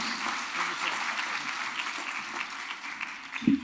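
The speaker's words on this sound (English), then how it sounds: "A big round of applause for Mr. Mirza, who will recognize the diamond." Applause from an audience at a South Florida Muslim community organizations gathering greets a speaker; steady clapping fills the clip at moderate level, with a brief low thump near the end.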